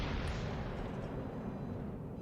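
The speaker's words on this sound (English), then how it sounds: "Totally wasn't gonna miss the most of the salvo." A battleship main-gun salvo fires in World of Warships: Legends, a dense booming blast that fills the whole clip and decays slowly, with no talk.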